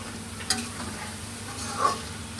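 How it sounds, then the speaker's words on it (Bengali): Potatoes and onions frying in a pan, a faint steady sizzle with a couple of sharp utensil clicks, quiet and close with no voices. "এই যে আলু আর পেঁয়াজগুলো ভাজা হয়ে যাচ্ছে"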